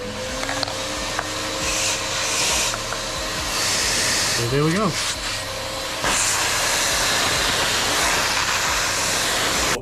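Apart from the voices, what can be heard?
MyTee carpet extractor vacuum running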